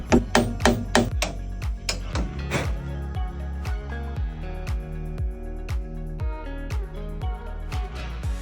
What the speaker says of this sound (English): beat this with a rubber mallet